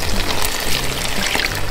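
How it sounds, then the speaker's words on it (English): Hot water is poured into a can in a kitchen, making a brief, loud, steady splashing gush close by with no talk. "what I do is I put some hot water in there with that"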